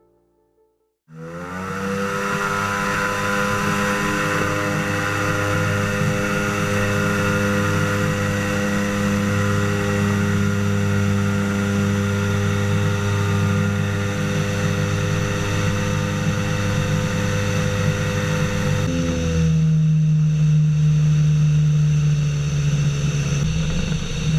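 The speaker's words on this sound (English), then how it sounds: "a homemade inflatable boat is converted into a deltaplane, demonstrating its takeoff and landing capabilities on a river" A loud, steady engine drone starts abruptly and runs continuously, a homemade inflatable boat converted into a motorized deltaplane close by on a river, its pitch shifting slightly near the end.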